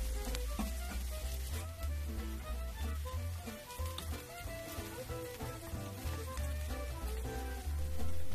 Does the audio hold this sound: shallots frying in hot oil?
yes